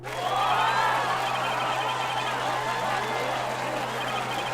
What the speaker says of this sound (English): Enough applause.